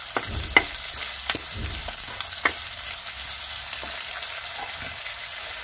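Onions stirred in a hot pan for a Kannada menthya rava bath, after green chillies went in: a steady close sizzle broken by a few sharp scrapes and clicks of the spoon.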